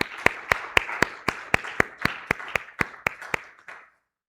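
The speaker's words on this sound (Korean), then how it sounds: "우리 한번 박수하시겠습니다" A Korean church congregation gives a sparse, loose round of applause during a Sunday service: about fifteen separate claps in a slightly uneven rhythm, close and fairly loud, fading out after about four seconds.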